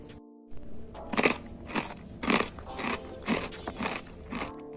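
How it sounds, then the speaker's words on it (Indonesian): Crunchy tapioca stick cookies are bitten and chewed close to the mic, giving a series of loud, crackly crunches in uneven bursts after a short quiet start, with no talking. "Renyah, gurih, kriuk-kriuk, ini seriusan bikin lagi."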